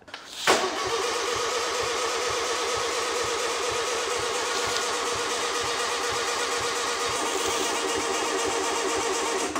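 A 1955 VW Beetle engine cranks on the starter after a sharp click, churning in a fast, even, continuous rhythm for about nine seconds without firing, close and loud.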